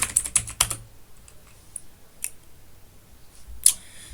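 Several crisp keyboard keystrokes typed on a Linux computer, a quick burst of clicks up front followed by a few sparse, isolated taps and one sharper key press near the end, close and fairly quiet with no voices.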